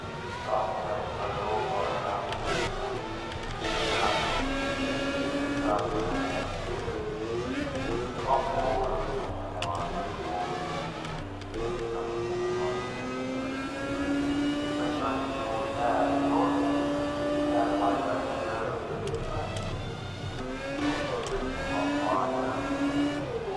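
Racing car engines whine and rev through free practice at the CRC 2015 Singapore round, a steady droning buzz of shifting pitches under continuous commentary.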